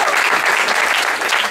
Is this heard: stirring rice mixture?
no